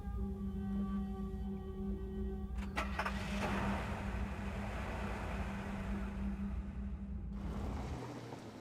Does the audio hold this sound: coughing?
no